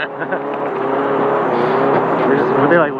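A steady, loud roar of high-horsepower cars running past on a race course, engine tones layered and slightly shifting in pitch as they go by, with people talking over the noise.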